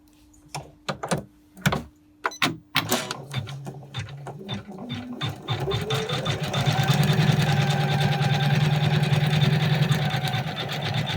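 An embroidery machine sewing a contour stitch on a design combined with flex transfer: a few separate thumps and clicks, then a steady, close, rapid mechanical whirr of stitching that grows louder and keeps going.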